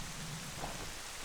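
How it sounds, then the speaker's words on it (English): Steady rain hisses with a low thunder rumble in the Zelda Twilight Princess video game, fairly quiet and continuous with no talk. "It's raining."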